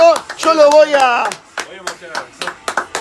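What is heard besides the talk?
clapping hands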